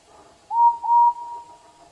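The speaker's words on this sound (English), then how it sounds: "The whistle lets off a soundful toot to signal different meanings." A steam locomotive whistle gives a short double toot, two steady tones in quick succession, clear and fairly close over a quiet background.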